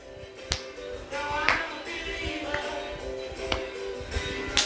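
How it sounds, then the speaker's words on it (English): Hands clapping in front of and above the head during an oldies warm-up exercise: several sharp, spaced claps over background music, close and crisp. "Clap in front and above your head."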